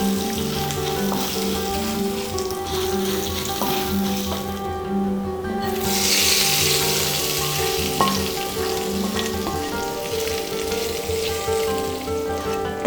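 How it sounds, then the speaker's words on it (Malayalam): A hot spice tempering with garam masala is poured into pressure-cooker chicken curry, sizzling loudly and continuously close up, with a brief hiss surge midway. "താളിച്ചൊഴിച്ച് കഴിഞ്ഞു."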